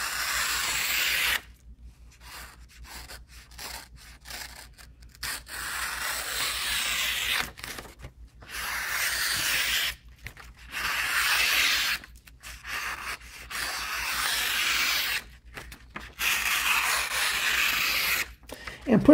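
SOG Fielder liner-lock knife push-cutting wood, close raspy scraping shaves in repeated strokes separated by brief pauses, each stroke a rough rubbing hiss.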